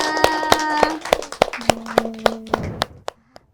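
Hand clapping at a pondok pesantren anniversary event: a handful of sharp, distinct claps in an uneven rhythm, close by, over a sustained sung or voiced tone, trailing off to a few isolated claps.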